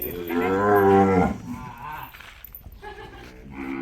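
A cow moos loudly and close by on a farm where cows are being milked, one long drawn-out call followed by quieter farmyard sounds.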